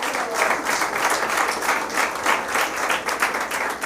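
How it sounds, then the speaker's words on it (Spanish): Steady, dense applause from a church congregation during a sermon, many hands clapping together at an even level for several seconds without a break. "Aplauda al Señor Jesús."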